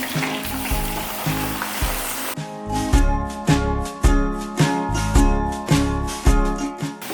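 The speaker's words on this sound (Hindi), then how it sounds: "अब इसमें गोश्त डालेंगे, गोश्त डाल के भूनेंगे।" Bone-in mutton with a little fat sizzles loudly in a kadai with onions, a steady frying hiss pulsing with regular stirring strokes, close and with no voices.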